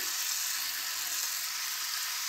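Zalabia batter sizzles steadily in hot oil, a dense, even hiss of frying with no voices over it.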